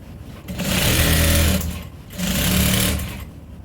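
A sewing machine stitching an African print fabric tote bag, running in two steady, loud whirring bursts with a short pause between them and no talk over the motor.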